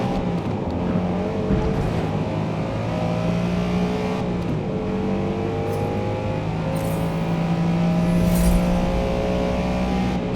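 A race car engine in Forza Motorsport drones loud and continuous under very tall gearing, its pitch climbing slowly through a long pull with one brief shift-like dip midway, alone without talk.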